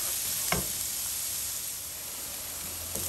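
Celery and carrots sizzle steadily in a hot pan as they cook down for a Bolognese sauce, a constant close hiss with a couple of brief clinks.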